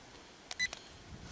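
A mini drone gives a short electronic start beep when recording begins, a few quick faint chirps in an otherwise quiet outdoor setting.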